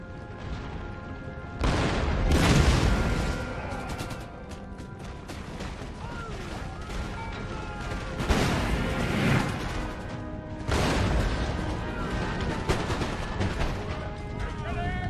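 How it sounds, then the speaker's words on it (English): Massed muskets and cannons rumble in the Empire: Total War battle: repeated volleys crackle and boom in waves, some bursts close and loud, others distant, with a constant din of battle between them. "At least we got a really good amount of rifles firing at this location now"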